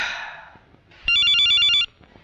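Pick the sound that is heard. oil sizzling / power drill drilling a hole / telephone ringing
telephone ringing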